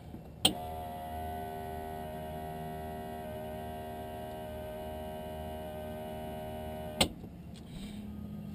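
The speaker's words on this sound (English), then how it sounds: "fuel pump 10 seconds" A light aircraft's electric fuel pump runs with a steady faint whine and hum inside a quiet cockpit, framed by a sharp click at the start and another at the end as it switches on and off.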